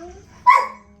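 A single short, high yip from a puppy, close and sudden, against a quiet background.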